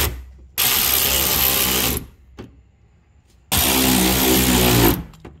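An electric ratchet tightens bolts on a BMW during a wheel speed sensor replacement, giving two long whirring bursts split by a quiet pause and a small click.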